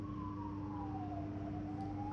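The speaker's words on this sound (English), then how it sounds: "I heard a lot of ambulances pass by" Ambulance siren passing by outdoors, a steady tone slowly sliding lower in pitch as it goes by, heard faintly at a distance over a constant hum and background noise.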